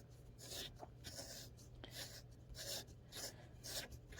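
A cue tip tipper scrapes a soft leather Elk Master tip with gentle, repeated rasping strokes, about eight short scratchy passes in a quiet room, fairly faint and close.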